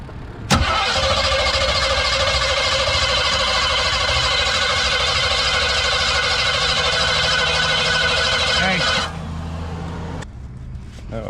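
Race car engine at a drag strip pit area cranked over and then firing, a sharp start followed by a loud, steady roar that holds for about eight seconds before dropping to a lower rumble, with a brief surge near the end.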